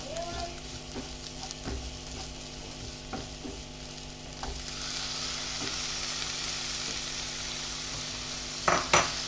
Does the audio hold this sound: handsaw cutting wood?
no